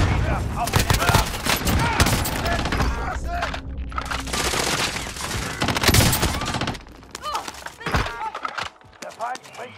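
Heavy gunfire in a Warzone match, dense automatic bursts and sharp shots over chaotic noise, loud and close, with a voice shouting in German through much of it before the firing thins out near the end.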